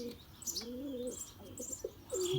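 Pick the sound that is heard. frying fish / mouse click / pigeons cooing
pigeons cooing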